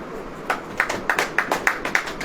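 Church congregation clapping hands together in a regular beat, crisp evenly spaced claps starting after a short pause and continuing at moderate loudness.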